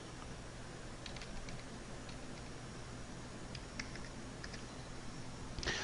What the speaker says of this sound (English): type in the name of the VirtualBox machine